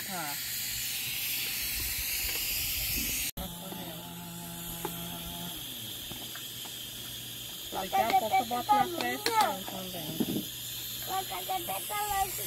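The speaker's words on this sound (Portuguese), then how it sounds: "E a panela tá chiando, viu?" A pan on a wood fire hisses and sizzles steadily throughout while people talk over it.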